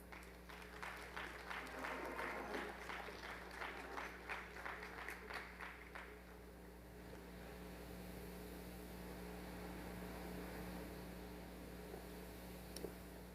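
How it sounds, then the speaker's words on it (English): An assembly audience applauds in a short burst of scattered, moderately faint claps over the first six seconds, fading into low room hum with no further clapping. "Give a round of applause."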